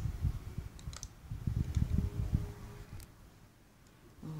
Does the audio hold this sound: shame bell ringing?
no